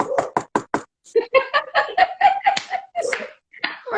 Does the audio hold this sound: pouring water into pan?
no